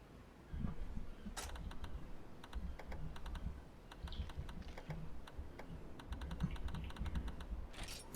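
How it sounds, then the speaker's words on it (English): Close, uneven typing on a computer keyboard that is new to the typist: clusters of sharp key clicks with short pauses between bursts, quiet and dry, with no voices. "If you're wondering why I type so poorly"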